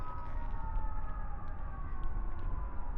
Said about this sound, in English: More sirens going.